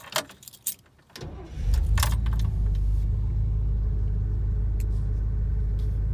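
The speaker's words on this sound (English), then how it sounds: "Just want to do a video of the Caprice running" A 1968 Chevrolet Caprice in light snow, after a few jangles and clicks its V8 cranks and catches, settling into a loud, steady low idle rumble close by.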